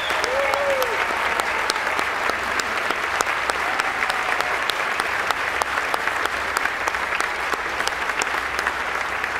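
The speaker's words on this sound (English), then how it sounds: "ask them all to stand and give them a nice round of applause" A large audience at the Ellis Island Medals of Honor ceremony claps continuously and evenly throughout, dense applause with no voices standing out.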